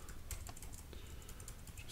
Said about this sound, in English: I've just typed in gold future